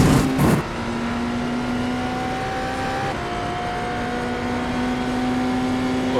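A race car engine in the iRacing simulator drones steadily at a high pitch, holding a near-constant tone with a brief loud burst at the start, no talk.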